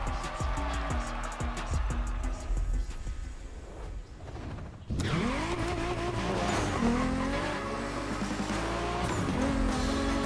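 A race car in the video game The Crew Motorfest revs hard and roars through gear changes, then its tires squeal in a long skid partway through while the engine keeps howling loudly.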